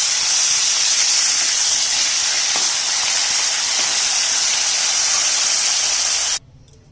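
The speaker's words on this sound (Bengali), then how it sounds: "এক সাইড ভাজা হয়ে গেছে, আরেক সাইড উল্টে দিলাম।" Fish sizzles in mustard oil after being flipped, a loud, even frying hiss with a couple of faint taps that stops abruptly near the end.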